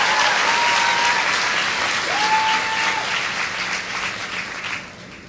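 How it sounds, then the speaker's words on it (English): A large crowd at a Los Angeles peace rally hosted by Bishop Noel Jones breaks into sustained applause, dense and loud, gradually thinning toward the end. "Yes, please let us give a round of applause."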